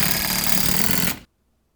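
A power drill drives screws through 2x4s into wall studs with one loud, close, continuous buzzing whir that cuts off sharply after about a second into silence.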